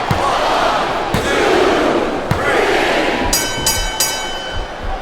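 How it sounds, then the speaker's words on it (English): A capacity arena crowd in the wrestling video game WWE SmackDown vs. Raw 2007 roars and chants steadily, a dense wash of voices with sharp thuds and a few ringing tones cutting through. "It sounds like this capacity crowd has something on their minds, Taz."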